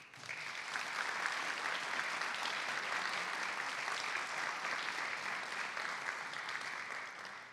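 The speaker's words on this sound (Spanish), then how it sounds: "Un fuerte aplauso para él, por favor" An audience at a Mexico City sustainable mobility forum applauds a speaker with an economics doctorate. The clapping is steady, dense and moderately distant, swelling quickly and holding for several seconds before tapering off.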